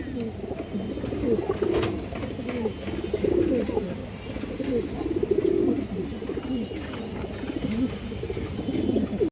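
Pigeons coo repeatedly in a loft where breeds such as army, lal khaki and china khaki birds are kept, a steady chorus of low rolling calls close by, with someone talking over them at times.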